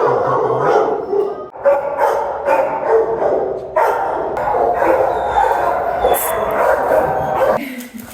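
An adopted shelter dog barks and yips repeatedly close by, loud and insistent in bursts with short pauses, mixed with whimpers and a faint voice.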